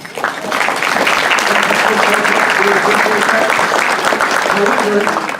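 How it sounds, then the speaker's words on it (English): A round of clapping at a business meeting, a thick, even wash of many hands that holds steady throughout, with some voices faintly mixed in. "please give him a round of applause"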